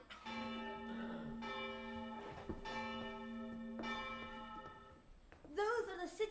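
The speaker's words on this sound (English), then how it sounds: "Those are the city bells." City church bells in a school play production ring out in a steady repeating peal with a sustained low hum beneath, continuing for several seconds before a voice briefly breaks in at the end.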